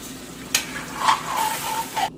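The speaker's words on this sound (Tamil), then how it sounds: "சிக்கனை ஆட் பண்ணுறேன். நல்லா ஒருக்கா மிக்ஸ் பண்ணி விடுவேன்." Chicken sizzles in a pan as it is stirred, with soft spatula scrapes and a few brighter clinks over a steady low frying hiss, close and fairly quiet.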